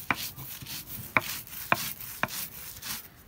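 Dried fish and onion ground by hand on a stone grinding slab, giving a low scraping rub with four sharp knocks spaced about half a second to a second apart, close and moderately quiet.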